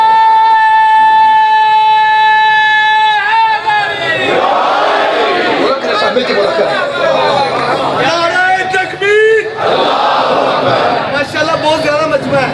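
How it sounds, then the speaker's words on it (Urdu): A large crowd at an outdoor religious gathering for Chehlum of Imam Hussain in Okara shouts slogans in loud, dense bursts, with voices surging and falling continuously; a single sustained tone opens before the massed chanting swells. "نعرے کا بلند آواز سے جواب دیے گا"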